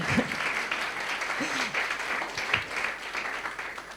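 A room full of people claps in steady applause, a brisk patter of hands with a few murmured voices underneath.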